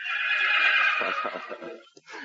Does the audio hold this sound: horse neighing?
yes